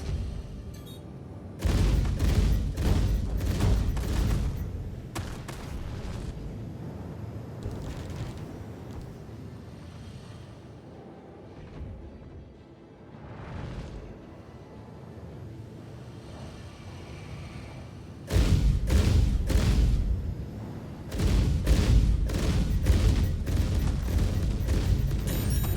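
F8C Lightning weapons fire striking ship shields in Star Citizen, heard as loud bursts of rapid booming impacts near the start and again near the end, with a quieter rumbling stretch between.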